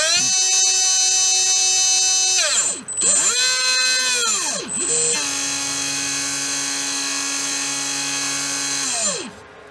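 A modified slot machine motor runs an automatic test on a test stand, whining steadily at high pitch, then spooling down and back up several times before winding down at the end.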